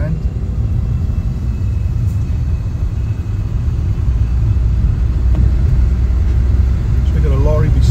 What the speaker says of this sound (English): So we've got a lorry beside us now, we can hear it then.